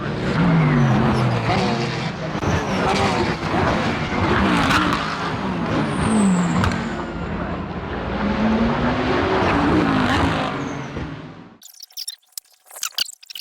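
GT3 race cars brake hard into Druids corner at Brands Hatch, loud engines roaring close by with downshifts and engine pitch sweeping continuously for about eleven seconds, then cutting off abruptly to quieter scattered background noise.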